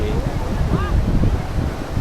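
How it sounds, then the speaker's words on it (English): Strong wind blows across a beach at sunset, making a continuous low buffeting rumble against the microphone while a voice speaks faintly beneath it. "So windy."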